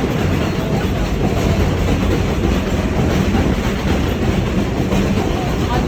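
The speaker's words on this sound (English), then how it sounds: "the train is right above me there where you heard that all that noise." An elevated train passes overhead on Jerome Avenue, a loud, dense rumble with rattling wheels and clatter that runs continuously throughout at close range.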